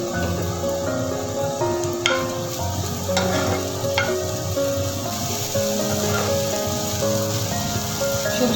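Vegetables with a pinch of sugar frying in a pan and stirred with a spatula, a continuous close sizzle with a few sharp scraping knocks of the utensil, no speech.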